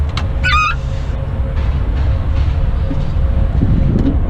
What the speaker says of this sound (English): Oh, let's check this train coming in.